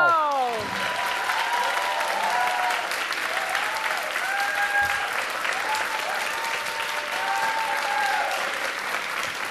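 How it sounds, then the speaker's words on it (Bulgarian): Audience applause for the first-season winners of a Bulgarian folk-dance competition superfinal, steady dense clapping from a large crowd filling the hall, with a festive melodic tune playing over it. "Аплодисменти за темпераментните победители в първия сезон на Надиграйме"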